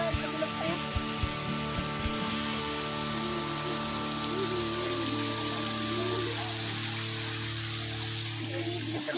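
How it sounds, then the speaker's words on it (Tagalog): Steady rain falls at an outdoor church grounds in Nasugbu, Batangas, a continuous patter and trickle of water on surfaces, with a low constant hum and scattered knocks underneath and no speech. "pauulan lang kasi ngayon"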